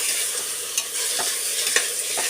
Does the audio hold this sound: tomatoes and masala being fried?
yes